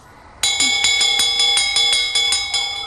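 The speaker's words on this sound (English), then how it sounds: "Shall I ring the bell?" A bell rings in quick, even strikes, about seven or eight bright clangs that ring on between hits, loud and close, with no talk.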